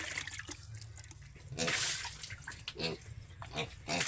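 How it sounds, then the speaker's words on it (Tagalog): A piglet being bathed with water, with splashing and pouring sounds mixed with short grunts and squeals, while people talk nearby in the background. "Magligo mi sa baboy guys."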